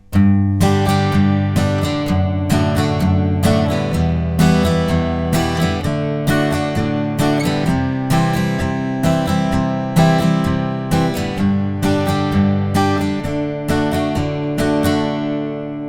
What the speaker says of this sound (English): So the verse with no capo will sound like this.